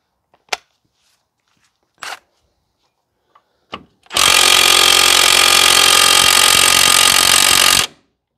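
A power tool, likely an impact wrench, loosens the 17 mm hub mounting bolts on a 2016 Ford F-150 3.5 V6 4x4 during wheel bearing replacement: a few short metallic clicks, then one loud, continuous rattling burst of about four seconds.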